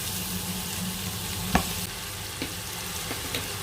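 Beef stir-frying in a pan for a German Rinderbraten, a steady close sizzle with a few sharp scrapes and knocks of a utensil stirring against the pan.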